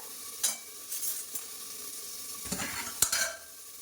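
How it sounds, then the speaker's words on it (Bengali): Pumpkin pieces frying in hot oil in a pan, stirred lightly, giving a close hissing sizzle with a few sharp scraping clatters and spatula knocks, no talk. "তেলের মধ্যে দিয়ে কুমড়োটা দিয়ে একসাথে মানে হালকা নাড়া করে"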